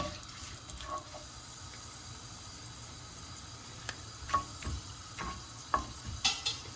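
Black pepper, cloves and cinnamon in hot oil being stirred: a faint low sizzle under a quiet background, with a few soft scrapes and clinks of the spoon toward the end; no speech.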